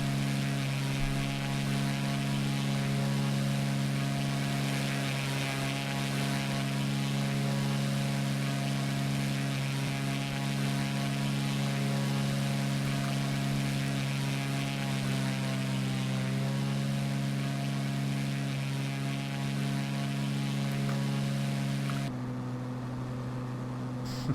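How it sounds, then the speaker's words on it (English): Propeller engine of a small high-wing plane in X-Plane 11, a loud steady droning hum with a constant pitch that holds throughout and shifts slightly near the end. "I love this little plane."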